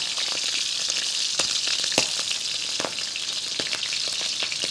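Shrimp fried rice sizzles hard in a hot wok, a dense, bright crackle of frying broken by sharp scraping clacks as it is stirred and tossed, close and loud with no talking.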